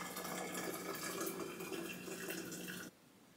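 Shower water running steadily in a bathroom, a continuous hiss of spray that cuts off abruptly near the end.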